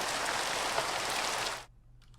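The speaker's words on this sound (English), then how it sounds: "There's just rain." Steady rain from the Minecraft weather, a dense hiss of falling drops that holds evenly, then cuts off abruptly near the end, leaving near silence.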